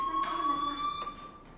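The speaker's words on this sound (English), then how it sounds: "do you hear that fire alarm?" A school fire alarm bell in the Life Is Strange video game rings with a steady, high metallic tone, continuous and moderately loud throughout.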